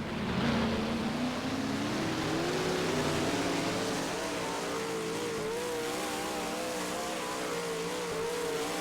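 Car engine in the mobile racing game Dirt Trackin 3, a sustained revving tone climbing and wavering in pitch as it accelerates, steady and fairly loud, with no talk.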